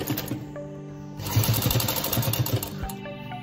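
Domestic sewing machine stitching down the frill of a six-month baby's dress, a short burst of rapid mechanical needle clatter after a brief pause, close and clear with no voices.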